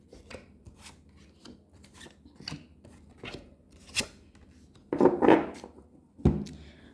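Tarot cards shuffled by hand for a Virgo reading, a series of soft dry riffling and rubbing bursts, with louder card snaps and slaps near the end, close and alone without any talking.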